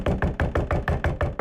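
Rapid, even knocking on a bathroom door, about eight sharp raps in quick succession, close and alone.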